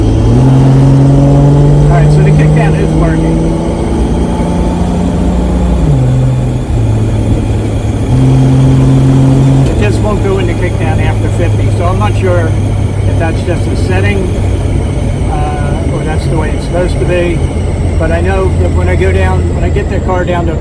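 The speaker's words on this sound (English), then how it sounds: "get the car down to about 30, and I gun it. It does go down into gear." A 1966 Dodge Dart GT engine is floored so the transmission kicks down a gear, giving a loud, close roar whose pitch steps and then climbs steadily, with someone talking over it.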